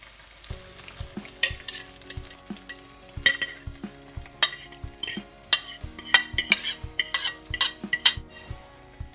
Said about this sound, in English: Now with this egg, give it another quick mix.